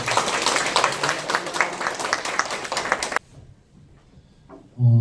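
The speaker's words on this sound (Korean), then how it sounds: "박수로 맞아주시기 바랍니다" Audience at a lawmaker's legislative report meeting in Gumi applauds loudly and steadily for about three seconds, then it cuts off abruptly to near quiet, with a brief voice or thump at the end.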